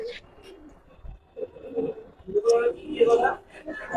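Giribaz flying pigeons coo in soft, repeated throaty bursts that grow louder toward the end, heard under a voice talking nearby.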